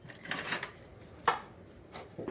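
A spatula scrapes the last bit of mayonnaise from a nearly empty jar, giving a few soft, uneven scraping and clinking strokes close by, separated by short quiet gaps, with no talking.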